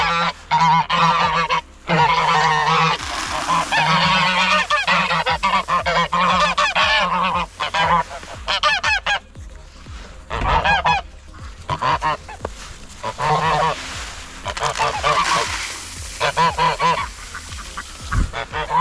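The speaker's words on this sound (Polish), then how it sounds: "O, gąska razem z nimi." Domestic geese honk loudly and repeatedly while being fed grain, a dense, close chorus of overlapping calls with ducks joining in, continuing without pause.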